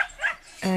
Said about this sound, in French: C'est un cocker américain.